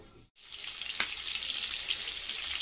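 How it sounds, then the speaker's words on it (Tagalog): Coated chicken fries in hot oil over a low flame, a steady close sizzle with a brief pause and a faint clink. "So nag-prito na tayo."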